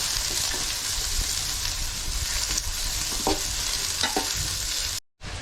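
Chopped onions and green chillies sauté in hot oil, giving a steady, loud sizzle with occasional scraping stirs of a spatula in the pan, then a brief cut before the frying resumes.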